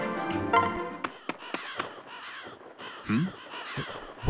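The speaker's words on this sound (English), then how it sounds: "What's that? A storm of crows?" A flock of crows caws in the Fire Emblem Awakening video game, with harsh calls overlapping and scattered around a rustling, flapping background at moderate volume and no talk.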